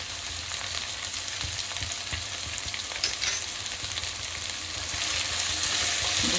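Poha upma cooks on low heat with a steady, gentle sizzle and occasional scraping as it is stirred, close and alone.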